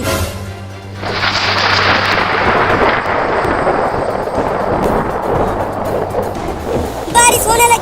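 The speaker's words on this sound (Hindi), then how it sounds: "बारिश होने लगी।" A loud, sustained roar of heavy rain with deep rumbling like thunder in a cartoon, ending with a brief burst of chirpy, squeaky sound.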